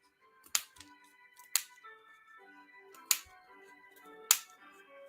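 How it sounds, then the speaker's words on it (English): Sharp scissors snipping through a bundle of wrapped yarn for a crocheted stocking tassel, four crisp separate cuts spaced a second or more apart, close and fairly quiet with soft handling sounds between. "now we're going to snip through all of our wrapped yarn"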